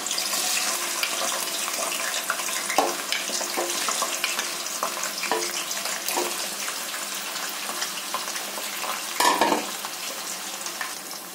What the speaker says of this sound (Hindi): मैं इसको हाई फ्लेम पर फ्राई करूंगी